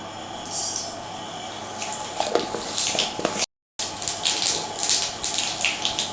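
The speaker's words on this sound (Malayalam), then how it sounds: "എണ്ണ ചൂടാകുമ്പോൾ ഇതിലേക്ക് ലേശം കടുക് ഇട്ട് കൊടുക്കാം" Mustard seeds splutter and crackle in hot oil for a Kerala-style pavakka thoran, a dense hissing sizzle with irregular popping bursts heard up close.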